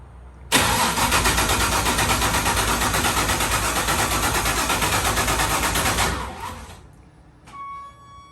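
A 408 stroker engine catches on its first start and runs loud and close for roughly five seconds, then cuts out and falls quiet with faint mechanical ticking after.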